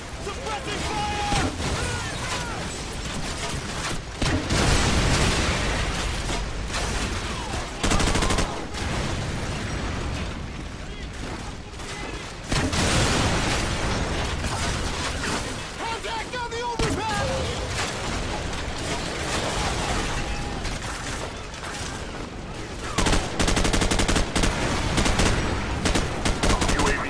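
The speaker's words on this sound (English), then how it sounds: "Suppressing fire!" Sustained automatic gunfire and bursts of shots in a Call of Duty 4 battle, loud and dense throughout, with shouted voices over the firing.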